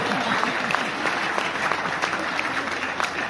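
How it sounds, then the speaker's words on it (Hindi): Hindi festival audience clapping at a spring celebration event, a loud, dense burst of hand claps with scattered sharper slaps, lively throughout with faint voices mixed in. "और अब तालियां तो इस बात को बजा देना"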